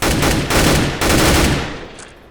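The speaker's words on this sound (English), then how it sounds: "Trying to get that last shot off." Automatic gunfire sprays in CS:GO as three loud, dense bursts, each roughly half a second long with brief gaps, the last trailing off into a fading echo.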